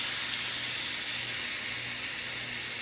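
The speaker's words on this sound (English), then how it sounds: "We're just gonna do a quick sear on this ham." Ham sears on a hot cast iron pan over medium-high heat, giving a steady, close, bright sizzle with a faint underlying hum, continuous throughout and without any talking.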